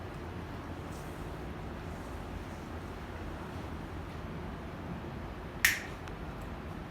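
One sharp finger snap during a street magic trick, heard once against a steady outdoor wind-like hiss, with no talk.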